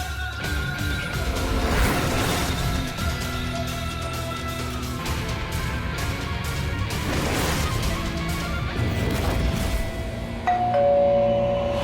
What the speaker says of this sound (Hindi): काहे बार बार घंटी बजा रहे हैं?